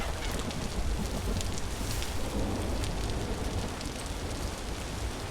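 Steady, dense rainfall in the video game Vintage Story hisses throughout, a constant wash of drops with no voices.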